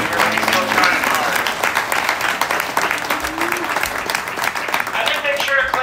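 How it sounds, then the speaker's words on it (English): A crowd in the stands at a county fair beef show claps for the kids in the ring, with broadband applause running steadily for several seconds, some voices mixed in beneath it. "Definitely give a nice round of applause to these kiddos"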